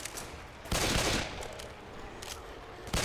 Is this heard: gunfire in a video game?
yes